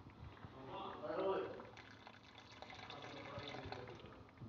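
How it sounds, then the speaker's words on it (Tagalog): Water is poured into a batch of Arabic oat jaries as it is mixed, making a steady splashing, trickling wash with mixer noise under it. "Magdagdag ako ng tubig"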